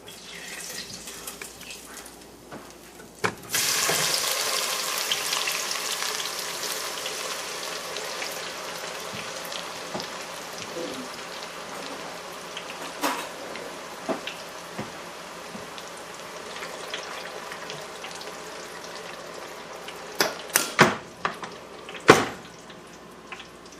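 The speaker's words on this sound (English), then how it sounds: "we'll cook it up in the fryer. So like I said, my oil is at 375 degrees" Jicama chips dropped into 375-degree oil in a deep fryer set off a sudden, steady bubbling hiss that carries on with a few sharp pops and clinks near the end.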